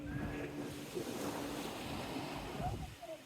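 Sea waves washing onto Teignmouth beach at high tide, a steady broadband surf wash with wind noise on the microphone, continuous and fairly close for the whole stretch, with no voices.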